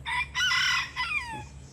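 An Easter egger rooster crows once, close and loud, with a rising then falling call that trails off. No other sounds or voices.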